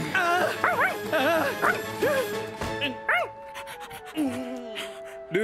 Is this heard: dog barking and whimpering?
yes